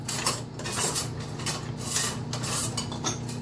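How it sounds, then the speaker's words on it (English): A whisk scrapes and taps in a pan as a butter and flour roux is stirred for a cheese sauce, giving a continuous rubbing sound with light metallic clicks. "So let's get a whisk here."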